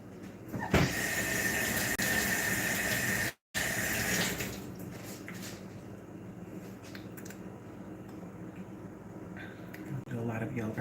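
A kitchen or bathroom tap runs with a loud, steady gush that breaks off for a moment and then resumes more quietly, with people talking over the flow.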